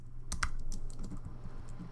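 Steady typing on a computer keyboard while writing notes, a close run of light, irregular key clicks with no talk over them.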